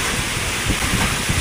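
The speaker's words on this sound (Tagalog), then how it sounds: "napakalakas ng hangin" Strong wind during a typhoon on Burias, heard as a loud, steady broadband roar with gusty swells and steady rain mixed in, with no voices.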